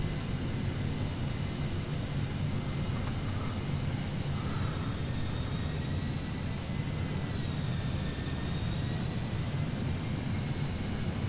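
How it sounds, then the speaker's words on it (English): A jet airliner takes off in a flight simulator game, heading from Hong Kong toward Tokyo, as a steady, loud engine roar with broadband rumble holds throughout, thin whining tones drifting on top. "Plane taking off again."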